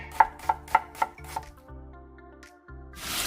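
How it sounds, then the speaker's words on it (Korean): Half an apple being julienned for a cabbage salad, five crisp knife chops in a quick steady rhythm on a board, followed by a few seconds of quiet with low background tones. "사과 반개를 채 썰어줍니다."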